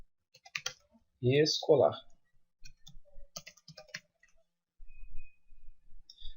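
Typing on a computer keyboard while entering text into an Excel 2010 spreadsheet cell, a few light clicking bursts coming between stretches of nearby speech.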